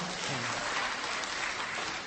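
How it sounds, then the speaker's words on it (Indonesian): An audience at a religious lecture applauds in a continuous wash of dense clapping that stays close and at a constant level from start to finish. "tepuk tangan buat istri yang sempurna"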